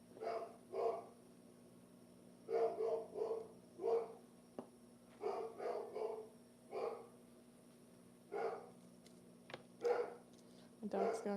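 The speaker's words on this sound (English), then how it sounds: "dog's going crazy." A dog barks repeatedly indoors at a wood shop, bursts of barking coming in irregular clusters against a steady background hum, moderately loud and somewhat distant.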